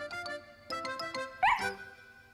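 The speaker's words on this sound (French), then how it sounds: "aboya joyeusement" A small cartoon dog in a children's animated story yips and barks joyfully outdoors, several quick bright barks followed by a louder excited yelp, set over light background music.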